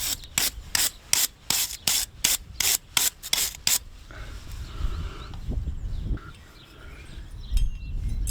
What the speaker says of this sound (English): Just going to clean up there, wire brush.